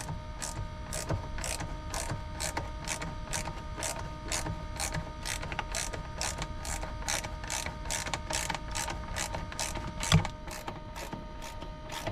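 A ratchet tightens a part on a trailer seat, its rapid, steady clicks repeating through the whole stretch with a brief louder knock near the end, close by and with no talking.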